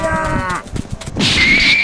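A bull in a Roblox game gives a short, loud moo, followed by a sharp bright crack like a whip.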